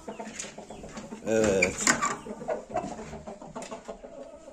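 Young roosters cluck and squawk close by in a farm coop, a burst of louder calls midway, while a person speaks briefly over them.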